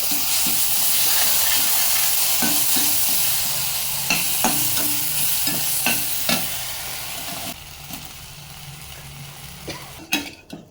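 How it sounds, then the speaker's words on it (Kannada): Mushroom Manchurian being stirred in a hot pan after white vinegar goes in, a steady loud sizzle with repeated scraping strokes of the spoon that fade into quieter hissing near the end. "ಸೊ ಇದೆಲ್ಲವನ್ನು ಹಾಕ್ಕೊಂಡು ನಂತರ ಸ್ವಲ್ಪ ಮಿಕ್ಸ್ ಮಾಡ್ಕೊಬೇಕು"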